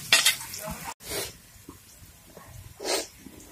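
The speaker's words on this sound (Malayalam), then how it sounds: "നമ്മുടെ സവോള പൊരിതും വാടി വന്നിട്ടുണ്ട്" Sliced onions with a little salt frying in a pan for a tilapia chilli curry, giving short bursts of sizzling and stirring close by.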